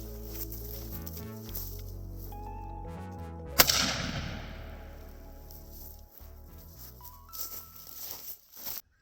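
An antique L.C. Smith double barrel shotgun fires one sharp, loud blast that rings out and decays over a couple of seconds, with steady tonal background sound throughout.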